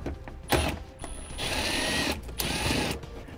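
A ratchet works loose the 7mm bolts on the cargo net attachment points of a trunk trim panel in a 2017 Subaru. It gives a few short, close mechanical bursts with brief pauses between them, and no one talks.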